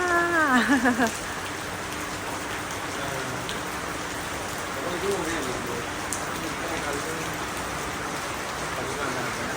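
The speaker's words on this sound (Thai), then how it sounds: "ฝนตกทั้งวันทั้งคืนเลยค่ะ" Steady heavy rain pouring down continuously, a dense hiss throughout, with a brief burst of a voice or tone at the start.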